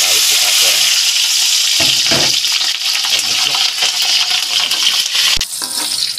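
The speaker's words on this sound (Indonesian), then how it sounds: "Kemudian ini untuk cabai merah rawit kita goreng." Red bird's eye chilies fry in hot oil, a loud continuous sizzle with stirring scrapes and a sharp clink near the end, with no talk.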